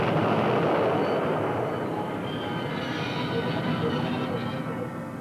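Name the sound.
train crashing at 100 mph into a derailed test flask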